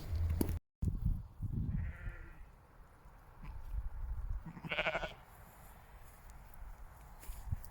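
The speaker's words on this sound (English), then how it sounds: "seeing the sheep now, walked through the field and some little lambs" A couple of bleats from sheep and lambs ring out across an open field on a walking route near Dover, one faint and one louder, over quiet outdoor ambience and footsteps.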